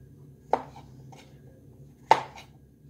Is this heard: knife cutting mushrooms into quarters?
yes